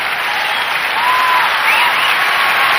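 A capacity crowd at a WBF bodybuilding championship applauds steadily for the full stretch, dense loud clapping with a few whistles rising above it and no talk.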